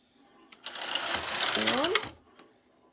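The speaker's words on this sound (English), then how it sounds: "We're going to knit 1 row across." A knitting machine carriage is pushed across one row, a loud, continuous mechanical rattle and whir lasting about a second and a half, with a brief voice over its end and a click afterward.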